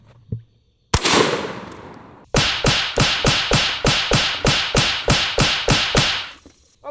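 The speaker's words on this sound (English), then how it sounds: "let's hit this block with our 10 gauge concrete slug" A 10 gauge shotgun fires a concrete slug at a block: one sharp close blast, then a rapid string of about a dozen loud cracking reports in steady rhythm, like strings of firecrackers, with no talking.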